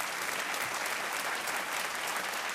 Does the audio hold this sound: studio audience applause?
yes